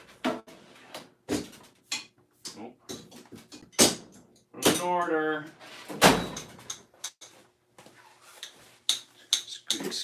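Rusty Channellock pliers squeak and click as their handles are worked, with one drawn-out squeal among scattered sharp clicks while a person talks over it.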